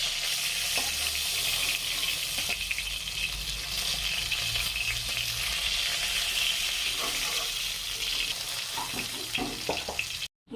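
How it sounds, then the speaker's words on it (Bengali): Pieces of boal fish fry in hot oil, producing a continuous dense sizzle with occasional scrapes and clinks, close and fairly loud, ending abruptly. "মাছগুলো আমার ভাজা হয়ে গেছে, সোনালি রঙের রং ধরে গেছে"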